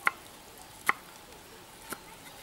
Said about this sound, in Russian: Перчик я режу кубиками размером сантиметр на сантиметр,